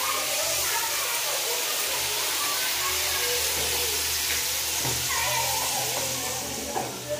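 Flat beans frying in a pan after water is added, giving a steady, close sizzle and hiss with faint stirring under a continuous background, and a person talking over it.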